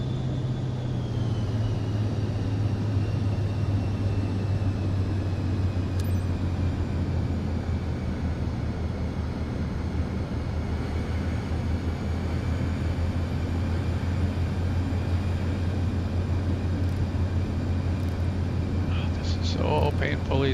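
An airliner taxiing toward the runway in MSFS 2024, giving a steady, continuous engine drone with a low hum throughout, unchanging for about twenty seconds, with a faint metallic rattle near the end.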